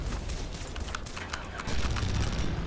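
Grenade blast and gunfire in Red Faction Guerrilla, rapid crackling shots in a dense burst with a low rumble swelling near the end, loud and close.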